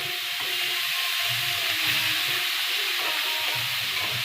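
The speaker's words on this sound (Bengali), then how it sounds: "শাক ভাজা হয়ে গেছে, আমি নামিয়ে নিচ্ছি।" Noté greens (amaranth) frying in a pan give a continuous soft sizzle and hiss at close range, with faint stirring underneath.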